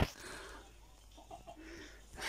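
A chicken clucks softly while scratching about inside a greenhouse as the soil is dug, with a few faint, short clucks over quiet background.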